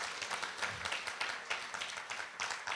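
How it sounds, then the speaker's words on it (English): Audience applause at a workplace nutrition summit, a steady wash of many hands clapping at moderate level without a break, fairly dense and even throughout. "another round of applause for Ronald."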